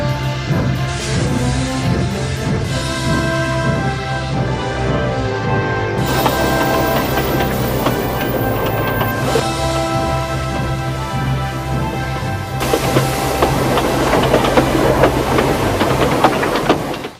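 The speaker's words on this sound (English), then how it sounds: "Henry took Diesel away on his goods train." A goods train rumbles along steadily with a low engine drone and rhythmic rolling, mixed with sustained musical tones, continuous and fairly loud for the whole stretch.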